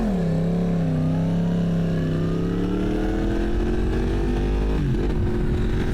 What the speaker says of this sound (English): Oh, such a lovely bike. Third of a throttle, beautiful little power wheelies.